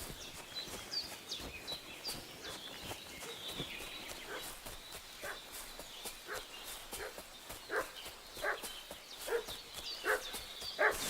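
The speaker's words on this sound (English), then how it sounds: "What's that dog making such a fuss about?" A dog in the Kingdom Come Deliverance 2 video game barks in repeated sharp bursts at a fairly even rhythm, moderately distant, over faint outdoor birdsong.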